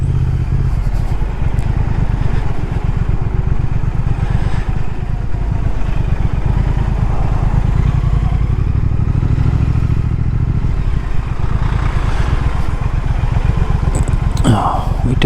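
A 2019 Triumph Speed Twin motorcycle engine thrums in a constant, loud, low rumble throughout, with a brief scrape near the end.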